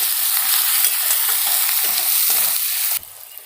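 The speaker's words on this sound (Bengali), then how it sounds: "এই মশলাটাকে আর একটু ভালো করে গ্যাসের ফ্লেমটাকে কমিয়ে মশলাটাকে কষিয়ে নেব।" Spice masala with onions is stir-fried in a pan over a lowered gas flame, a close, steady sizzle with scraping stirs that stops abruptly near the end.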